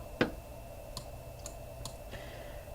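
Computer mouse clicks sound crisp and close, a sharp first click followed by several lighter, evenly spaced taps over a low steady hum.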